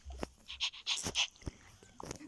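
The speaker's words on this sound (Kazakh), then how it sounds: "Мынау не ит?" A dog pants in short, quick breathy bursts close by, with a few faint thumps and a person speaking briefly nearby.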